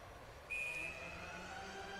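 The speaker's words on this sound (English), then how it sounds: "I did hear a whistle in the background when they were showing the replay." A referee's whistle at an NCHC quarterfinal ice hockey game between Miami and North Dakota gives one sharp, moderately loud blast of about half a second, set back against a steady arena crowd murmur.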